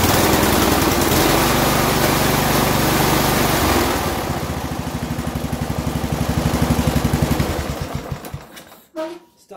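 A Briggs engine on a small lawn tractor runs after a carburetor replacement, starting with a loud, even roar at speed, then settling into a rhythmic, pulsing idle before cutting out with a few sputters at the end.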